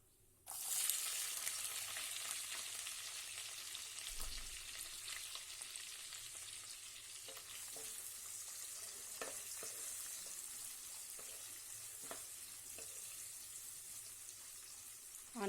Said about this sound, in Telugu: ఇవి కొంచెం వేగిన తర్వాత షాజీరా వేసుకుంటున్నాను. షాజీరా ఫ్రై అయిన తర్వాత మనం ఆనియన్స్ అండ్ పచ్చిమిర్చి వేసుకుందాం.